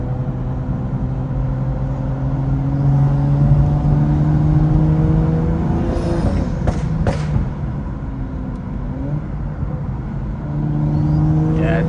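A stage 2 tuned BMW 435i idles as it warms up on a street in Long Island, a close and steady engine drone whose pitch rises and falls through a few gentle revs. A brief sharp rattle sounds midway.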